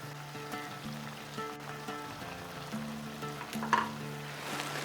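Pre-fried potatoes sizzling in a pan with a spoonful of sugar: a soft, steady frying hiss with occasional crackles, heard faintly under background music.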